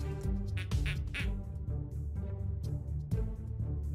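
Cartoonish duck quacks sound in the Kindergarten video game, a few short nasal calls popping over a continuous game music bed, moderately loud and close.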